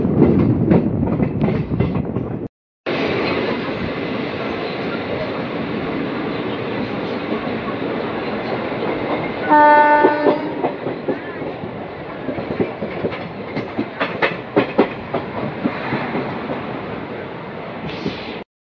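Passenger train pulling into Rampurhat Junction, its wheels rumbling and clacking steadily, with a brief horn blast midway and a sudden break near the start.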